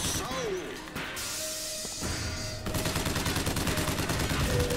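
Gunfire in Bioshock Infinite on 1999 Mode, with turrets nearby, a mix of sharp shots, crashing impacts and a rapid run of firing toward the end, under a voice.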